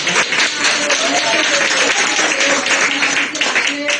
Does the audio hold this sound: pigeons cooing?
no